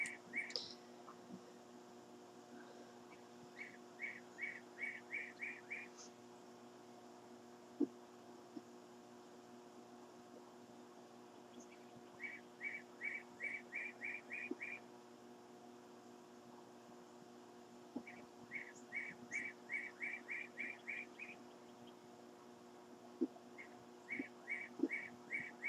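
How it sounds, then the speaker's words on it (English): A bird chirps in quick bursts of rapid, evenly spaced notes that repeat every few seconds, faint over a steady low electrical hum. "There's a bird making a noise, I don't know what kind of bird that is."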